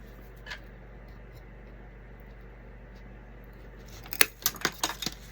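Scissors snip off excess craft material in a few quick, close cuts near the end, after a mostly quiet stretch with only a faint earlier rustle.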